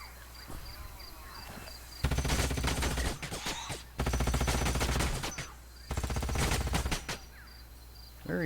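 A turret in the strategy game Age of Wonders: Planetfall fires in three loud, rapid bursts of gunfire, each about a second long and separated by short pauses, with a faint voice beneath.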